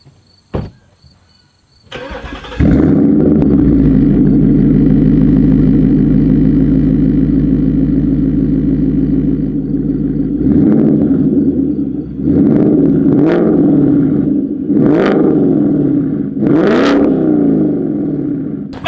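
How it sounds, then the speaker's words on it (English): A 2019 Ford Mustang GT fitted with an AWE Touring catback exhaust fires up after a few clicks and settles into a loud, steady V8 idle, then gives several sharp revs that rise and fall near the car. "what you will be hearing is the AWE Touring Catback exhaust system"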